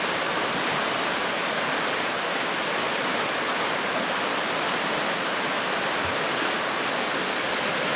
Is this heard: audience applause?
no